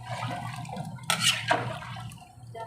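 Water splashes and gushes steadily into a cooking pot for biryani, with a couple of louder pouring surges over a low background hum.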